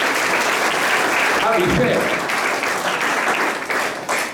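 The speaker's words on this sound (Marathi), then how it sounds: "आपण सर्वांनी पुन्हा एकदा टाळ्या वाजवून डॉक्टरांचं स्वागत करूया." Audience clapping to welcome a doctor at a health-problems lecture, steady continuous applause from a room of people, with a few spoken words near the end.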